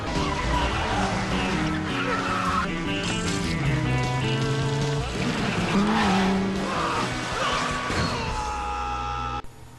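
Animated cars race through a chase in Cars 2, with revving engines, screeching tires and a brief crash-like hit, loud and busy.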